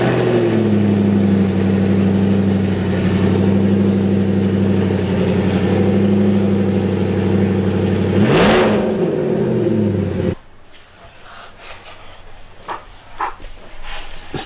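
A car engine revving hard after a one-piece driveshaft install, a loud sustained drone that sweeps up in pitch, then cuts off abruptly, leaving quieter mechanical clatter.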